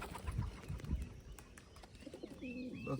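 Pigeons give soft cooing calls near the end, over rustling and low fluttering sounds in a quiet pigeon enclosure.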